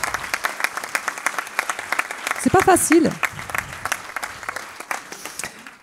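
A live audience applauds students after a musical performance with a rhythmic, fairly close clapping that runs throughout, while someone speaks briefly over it midway.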